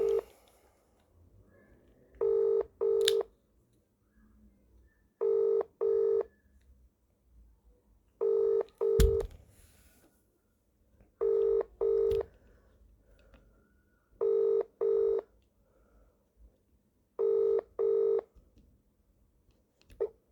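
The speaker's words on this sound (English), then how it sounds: "Ring up Christopher Browell." Mobile phone placing a call: paired beeps of dialing tones repeat at a regular interval of about three seconds across a long quiet stretch, with a brief low thump partway through and no one talking.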